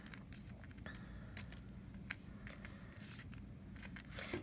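Melt and pour soap being cut into faceted amethyst-style gem shapes, giving a series of soft, close scraping and slicing strokes over a low steady background hum.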